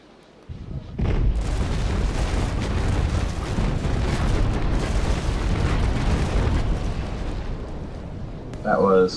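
A ship's cannon broadside in the Naval Action game, rumbling as a long continuous roar of booms for several seconds before a voice speaks at the very end.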